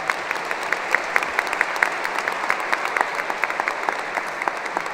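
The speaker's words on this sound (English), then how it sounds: "Give them a round of applause" A crowd claps at a 2023 South Anchorage High School graduation, the applause loud and steady, with a few sharper individual claps standing out near the front.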